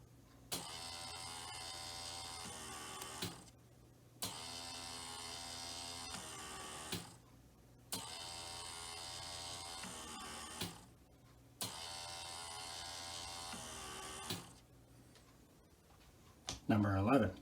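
A Bachmann model railway turntable rotates counterclockwise, its motor giving a steady mechanical whir in four repeated runs of about three seconds each, with brief pauses between them and a louder clunk at the end.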